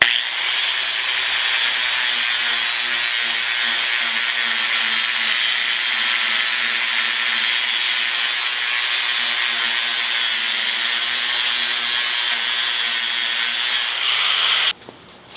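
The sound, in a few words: flap disc polishing mill scale off steel bar stock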